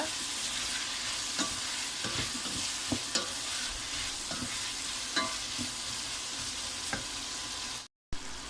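Chopped vegetables and tomato fry in a pan for vegetable pasta, giving a continuous close sizzle broken by scattered clicks and scrapes of a spoon stirring, with a brief dropout near the end.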